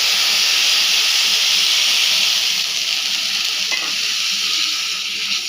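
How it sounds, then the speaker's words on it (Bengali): Lukewarm water hits frying rice for white pulao in a hot pot, setting off a loud, rushing steam hiss that slowly softens and fades. "এবার ওপর থেকে কুসুম গরম জলটা দিয়ে দিলাম"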